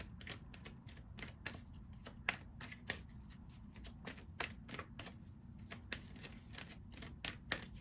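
Tarot cards are shuffled by hand in quick, rhythmic riffling bursts, crisp close clicks and flutters repeating steadily over a quiet background with no voices.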